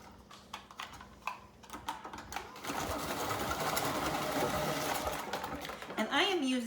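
Food processor with a coarse grating blade shredding food, a rising steady motor whir and clatter that starts after a few clicks and runs loudly to the end, with a voice speaking briefly.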